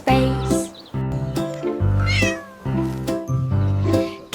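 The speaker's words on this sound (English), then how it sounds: "Kitten mewed a tiny call" A kitten meows in a few short, bright calls, each one close and clear over a soft musical backing.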